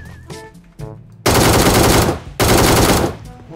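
Two loud, sustained automatic bursts from an ACE32 rifle in the PUBG Mobile video game, each lasting about a second, follow a few soft clicks and a short tone.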